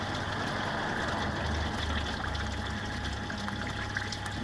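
Water drains through a soda bottle bell siphon in an aquaponics setup, giving a continuous close gurgling trickle and pouring wash with a low churning undertone.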